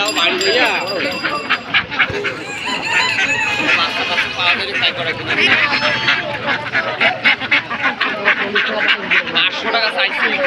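Poultry calls from a crowded duck and chicken market, with domestic ducks on sale among the birds; a dense, continuous stream of calls and cackles runs close and loud throughout, with people talking over them.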